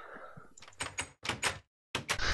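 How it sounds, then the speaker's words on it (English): Doors open in Minecraft with several quick wooden clacks in short bursts, close and moderately loud, separated by a brief silence. "feel free to open the doors and see if Kama's in there."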